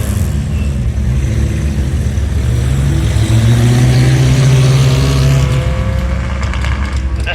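A pre-1947 750cc four-cylinder hill climb race car without turbochargers accelerates at Prescott Hill Climb, a loud, buzzing engine rising in pitch as it pulls away, continuous and close with no talk.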